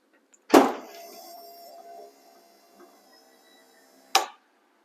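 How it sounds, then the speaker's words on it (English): A Lincoln Town Car trunk lid shuts with a loud thud, then the trunk motor whirs to pull it down snug and fades out, and a second sharp clunk follows a couple of seconds later. "Motor's pulling it down snug"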